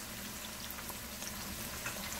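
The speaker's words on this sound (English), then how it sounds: "So we'll fry up the onion for a minute" Onion frying in a pan for a Guyanese hassar curry with coconut cream, giving a steady, dense sizzle and crackle that holds evenly throughout at moderate loudness, with no voices over it.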